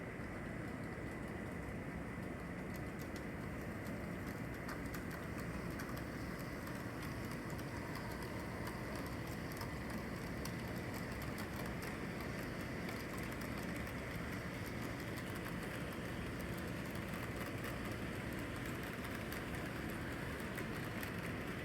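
A model railroad train runs on a layout, producing a steady, continuous mechanical hum and rumble at a moderate distance that holds evenly with no talking.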